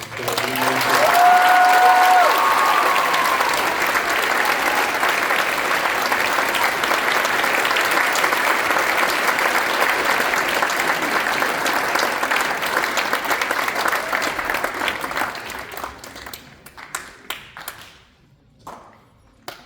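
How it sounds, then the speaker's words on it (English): At a school spring concert, an audience delivers a long, dense round of applause, steady and full for about fifteen seconds before thinning into a few last claps and quiet. "if we could just give Jill one more round of applause"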